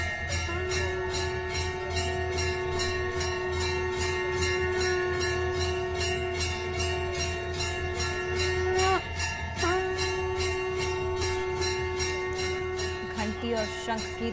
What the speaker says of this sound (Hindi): शंख की ध्वनि के बीच में आरती शुरू हो चुकी है